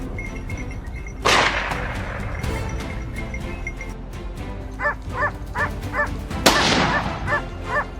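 Hunting dogs bark during a wild boar hunt on a hillside, with a sharp whip-like crack early on and a later burst, followed by a series of short, rhythmic yips and barks at moderate distance.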